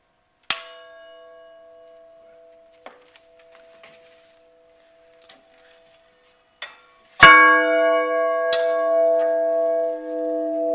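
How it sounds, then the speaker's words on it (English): A church bell at a United Methodist Church in a museum setting gives a single sharp strike that rings on and fades, then quiet scattered knocks, then two more loud strikes with long sustained ringing. "You want to ring that bell there again, Charlie?"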